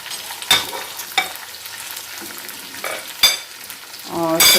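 Chopped onions are added to hot oil in a karahi for Dhaka chicken karahi and fry with a steady close sizzle, punctuated by a few sharp clinks and scrapes of a spoon stirring.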